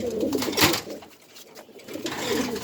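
A pair of Yellow German Shield pigeons cooing, soft low rolling coos in two spaced bouts with a brief quieter gap between, close by and without speech.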